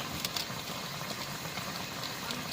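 Maggi noodles boiling in a pot of water in a village-style kitchen, a steady, fairly quiet bubbling hiss with small pops, heard alone.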